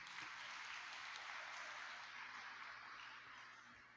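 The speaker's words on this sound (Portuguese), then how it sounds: "uma salva de palmas às crianças" A church congregation at Sunday Mass applauds the children. The clapping is faint and spread out, sounding like a distant crowd in a large hall, and it fades slightly toward the end.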